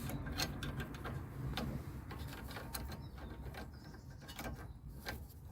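A bolt is loosened on the wishbone of a Toyota Yaris, with a run of quick close ratcheting clicks and small metallic ticks repeating steadily, fairly quiet, with no talk.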